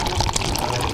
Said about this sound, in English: And now should we pour the beers?